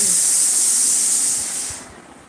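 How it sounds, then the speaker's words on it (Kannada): A pressure cooker whistles loudly nearby, a sustained high steam hiss that holds steady and then trails off near the end. "ಎಲ್ಲ ಕುಕ್ಕರ್ ಒದರ್ತಾ ಇದೆ"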